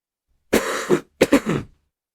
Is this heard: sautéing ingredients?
no